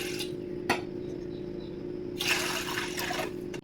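Two glasses of water poured in a home kitchen for a ragi breakfast drink: a sharp clink of glass, then a longer splashing pour near the end, over a low steady hum.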